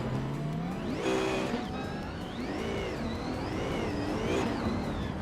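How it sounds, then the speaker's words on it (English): A 2020 Koenigsegg Jesko race car in a racing video game, its engine note rising and falling steadily as it accelerates and shifts, with a loud continuous whine sweeping up and down throughout. "Shadows 1 is driving a 2020 Koenigsegg Jesko, known for its incredible speed and advanced aerodynamics."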